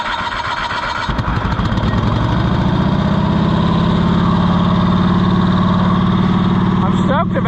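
A Cushman Truckster engine with the choke pulled runs steadily and loudly after catching about a second in, holding a rough, constant idle throughout.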